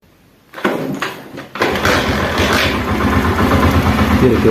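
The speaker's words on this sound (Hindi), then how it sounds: "तो अब हम बाइक को स्टार्ट करते हैं।" A China 70 motorcycle engine starts after a short click, then settles into a steady, loud, even idle that runs close by until the end.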